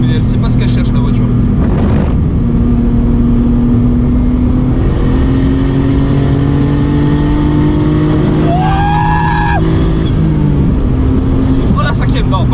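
A car engine revs hard and accelerates close by, its pitch climbing in surges before easing off. People talk excitedly over the engine noise.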